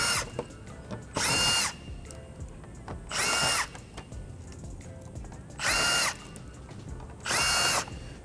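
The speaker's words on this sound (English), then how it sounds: "Now that Sean has pulled off literally a million, like 7mm screws, thanks Ford" A power drill is backing out small 7mm screws from the front lip and under panel of an S650 Ford Mustang. Four loud, close whirring bursts of one to two seconds each are separated by quieter pauses with faint handling noise.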